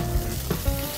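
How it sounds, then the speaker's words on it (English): Fish hits a pan of hot oil with a brief, close sizzle and a couple of soft knocks as it is moved around. "immediately add my fish. Moving my fish around so that it doesn't stick to the pan."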